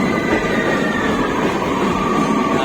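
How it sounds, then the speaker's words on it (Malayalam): A passenger train rumbles steadily through a tunnel on a scenic route toward Karnataka, producing a loud, continuous roar of wheels and rails with no pauses. "എല്ലാരും ട്രെയിനിന്റെ ഒച്ചപ്പാടുണ്ടാക്കാണ്."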